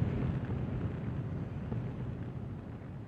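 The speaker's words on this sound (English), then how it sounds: "which finally allowed me to launch an assortment of missiles for my own sick pleasure" Missiles launch and explode in the video game Fallout 3 as a steady, rumbling roar that stays fairly loud and even throughout, with no distinct separate blasts and no speech.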